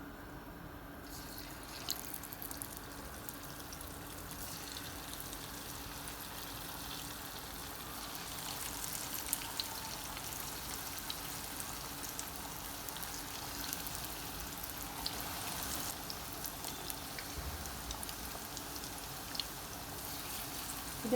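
Marinated, parboiled cauliflower florets frying in hot oil until golden brown, a soft, steady crackling sizzle heard faintly and continuously with no talking.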